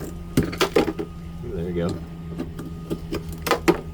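Metal wrench clicks and scrapes against a corroded Mercury power steering line on a saltwater Boston Whaler, a handful of sharp close knocks with a short grinding squeal in between, while someone speaks briefly.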